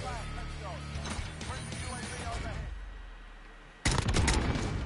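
Gunfire in Call of Duty: Warzone, with scattered shots and game noise under speech, then a sudden loud burst of shots near the end.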